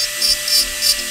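Rotary carving tool fitted with a round carbide bit grinding into wood, a bright, hissing whine that swells and fades in quick regular passes as the bit rubs the surface, close and fairly loud, no speech.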